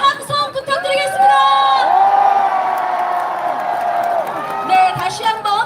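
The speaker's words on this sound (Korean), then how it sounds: "여러분, 한 번 더 함성 부탁드리겠습니다." A crowd at the Democratic Party's Incheon election campaign launch rally cheers and whoops in a loud, sustained roar, with shrill voices rising above it and surging again near the end.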